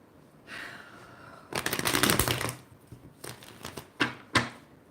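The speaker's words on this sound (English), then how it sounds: "I'm just going to give these a really nice shuffle." A deck of tarot cards is shuffled by hand in a few quick bursts of riffling and flicking, close and crisp, separated by short quiet gaps.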